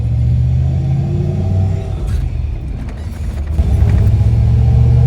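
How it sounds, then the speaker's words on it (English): A lowered dually pickup truck on 22-inch wheels rolls over a speed bump, its engine rumbling low and steady, with a brief thump and rattle of suspension midway before the rumble swells again as it pulls away, close with no talk. "Dually pickup trucks dropped on 22s do not like speed bumps,"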